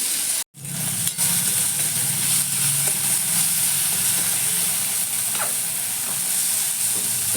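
Potatoes fry in a pan with a steady, close hiss and sizzle that carries on evenly, broken only by a brief dropout near the start.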